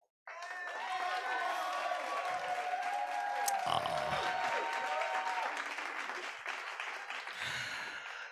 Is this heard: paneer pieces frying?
no